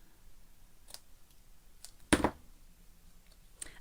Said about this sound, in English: And I'm just going to trim this now. Just trim the corners off that.